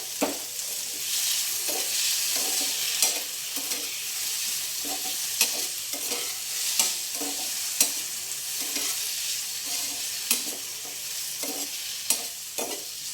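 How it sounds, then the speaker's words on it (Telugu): Tomatoes cook in a pan with tamarind for a carrot-coconut-tomato chutney, sizzling steadily while a utensil stirs them in regular scraping strokes about once a second, close and alone. "ఈ టమాటా మగ్గేటప్పుడు కొద్దిగా చింతపండు అండి వేస్తాను"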